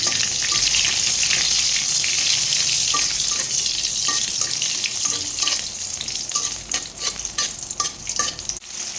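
Bay leaf, cardamom and cinnamon sizzle and fry in hot oil in a wok, a steady close hiss running throughout with light stirring clicks and scrapes scattered across it.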